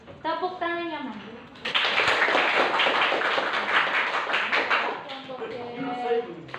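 Classroom students clap their hands in a dense, loud burst lasting several seconds, bracketed by a teacher's voice speaking before and after.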